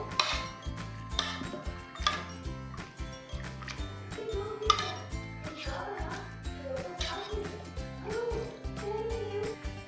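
Pressure-cooked green gram being mashed in a pot, giving repeated soft, wet thuds and scraping clinks of a utensil against the metal, steady and close throughout with no talking.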